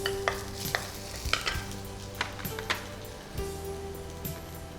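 Garlic and ginger frying in a pan for a fish momos chilli dish, a steady sizzle with scattered sharp clicks and scrapes of stirring throughout.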